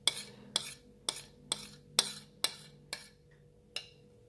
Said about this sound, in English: So now you're just going to stir until it starts to thicken a little bit or slightly.